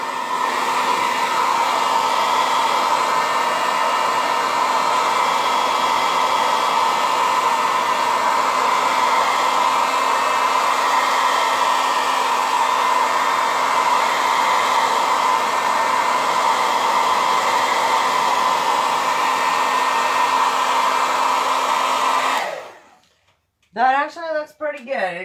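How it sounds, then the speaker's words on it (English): A hair dryer blows on wet acrylic paint with a steady, loud whooshing roar for most of the clip, then cuts off abruptly near the end as a brief bit of noise follows. "I'm going to have to get the blow dryer because mine's not drying fast enough"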